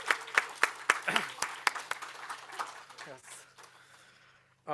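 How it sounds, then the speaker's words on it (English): An audience at a social work colloquium gives a short round of applause, with distinct individual claps rising into scattered clapping and fading out within a few seconds. "So let's give another round of applause to Dr. Radaki."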